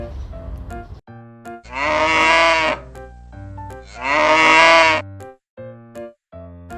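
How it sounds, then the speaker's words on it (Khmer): A cow gives two long, loud moos a couple of seconds apart, set over a bouncy instrumental tune that continues between and after them. "សត្វគោមានសំឡេង"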